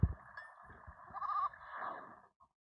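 A goat bleats in the video game There Is No Game. The call is one long, wavering bleat heard clearly on its own, with a short click before it and another at the end.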